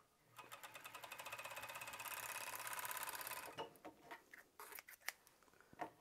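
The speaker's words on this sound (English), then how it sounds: "just sew it all the way through" A sewing machine runs a steady, fast stitching burst through fabric while assembling a 3D shirt, sewing a sleeve seam straight through. Near and clear, it is followed by a few quieter clicks and handling sounds, with no talking.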